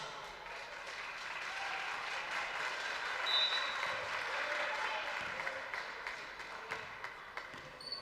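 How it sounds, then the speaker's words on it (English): Panther fans give a sustained round of applause in a high school boys basketball gym, a broad wash of clapping from the crowd that holds steady for several seconds before thinning slightly toward the end. "Charlie Ellis gets a round of applause from the Panther fans in attendance"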